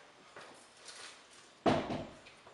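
A French door swings open and knocks onto its magnetic catch, giving one firm close thud after a soft shuffle of movement, near and fairly loud.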